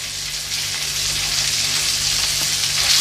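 Chicken saltimbocca escalopes topped with ham sizzle in a hot pan, a dense, even hiss of frying that holds steady for the whole stretch with a low hum underneath.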